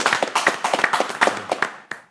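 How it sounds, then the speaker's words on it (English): Small audience at an interview event gives a short round of applause, individual claps distinct and close, tapering off with a final clap. "Hand of applause."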